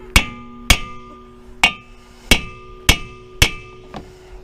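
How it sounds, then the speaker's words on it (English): Seven sharp metallic hammer strikes on a rusted wheel hub of a Mazda 3 ring out at a steady, unhurried pace, each blow clanging with a brief resonant tone, close and loud. "So we'll just take a hammer."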